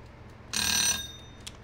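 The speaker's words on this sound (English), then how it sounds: "my egg timer is about to go off" A kitchen egg timer going off with a single short, bright ringing burst of high metallic tones that fades away, followed by a faint click, in a quiet room.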